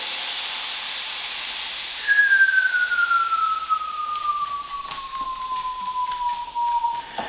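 Air rushing out of a carbon cyclocross tubular bicycle tyre as it deflates: a loud, steady close hiss throughout, with a thin whistling tone gliding slowly downward in pitch, no talking.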